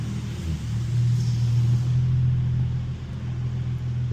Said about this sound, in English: Now finna go test drive the VR30.